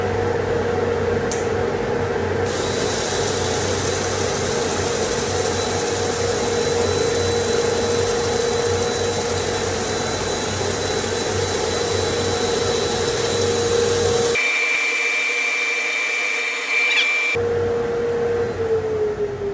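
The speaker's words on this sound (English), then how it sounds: "All right, we're gonna get to some sanding." Power sanding of a turned Bradford pear wood bowl with 80 grit abrasive: a steady, loud motor whine with a constant droning hum, briefly shifting pitch and cutting out near the end, with no talking.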